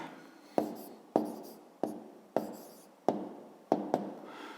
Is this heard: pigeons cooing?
no